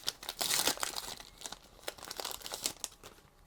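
A Pokémon booster pack wrapper is torn open and crinkled close up, with a burst of sharp tearing followed by scattered crumpling and crackling plastic rustles, no talking.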